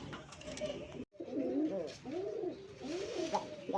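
A male old native Golla pigeon gives a deep, heavy coo, repeated in several rolling phrases close by with a short pause near the start.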